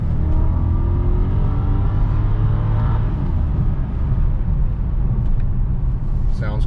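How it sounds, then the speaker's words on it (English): A BMW 650i E64 convertible engine pulls hard at full throttle, a loud steady rumbling roar heard from inside the car, with a voice over it near the end. "Let's go foot to the floor here."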